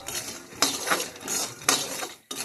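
Spoon or utensil stirring peanuts with salt and chili powder in a bowl, close rhythmic scraping and clinking strokes in a quiet room, no voices.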